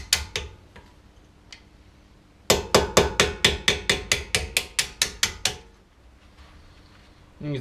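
A hammer taps a small punch against a brake caliper clip on a 2005 Acura TL: a few sparse light taps, then a rapid run of about fifteen sharp, evenly spaced metallic strikes, close and clear, trailing off.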